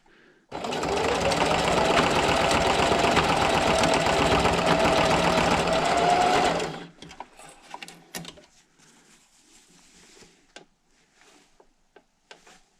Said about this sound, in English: just sew back and forth, 3 or 4 times